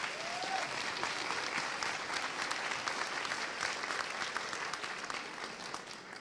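An audience at a community center grand opening applauds in a long, even wave of clapping, sustained for several seconds before tapering slightly at the end.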